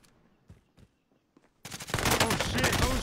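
Rapid submachine gun fire from a PPSh in a first-person shooter video game bursts in loudly after about 1.6 seconds, following a few faint thuds and footsteps.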